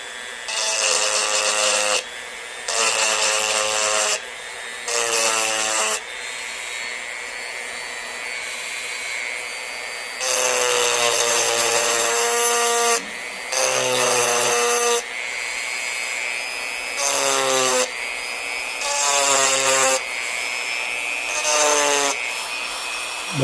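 Bursts of a Dremel rotary tool grinding, used in place of a file to shape a stone point, come in repeated high whining passes of a few seconds each with short pauses between them, loud and close.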